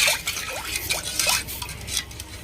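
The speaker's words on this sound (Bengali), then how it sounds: "চামচ দিয়ে ঘটা।" A spoon stirring an ORS and water mixture tinted with food colour for ice cream, several quick scraping swirls with light clinks against the container, close with no voices.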